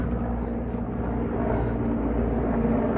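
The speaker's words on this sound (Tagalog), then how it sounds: "May helicopter, oh." A helicopter flies overhead in Japan, heard as a steady, fairly loud low rotor rumble that persists throughout with no voices.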